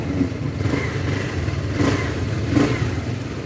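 A Fekon motorcycle engine runs quietly while parked on its side stand, a steady low hum with a few slight rises in revs, heard close with no voices.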